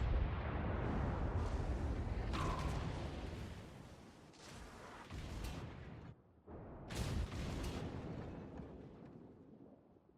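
Airstrike explosions rumble in a World of Warships naval battle involving a North Carolina battleship and a carrier, with several heavy booming bursts in sequence over a low, continuous roar, fairly distant and muffled.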